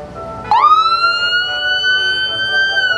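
Emergency vehicle siren at a holiday parade, a loud sustained wail that rises sharply then holds a steady high tone, close by with crowd noise underneath.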